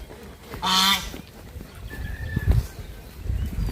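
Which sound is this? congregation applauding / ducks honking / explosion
ducks honking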